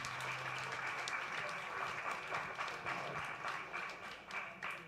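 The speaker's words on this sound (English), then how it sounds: "so give Sakshi a big round of applause" An audience at an entrepreneurial masterclass applauds, a continuous wash of clapping lasting several seconds, heard fairly distant and faint with a voice briefly at the start.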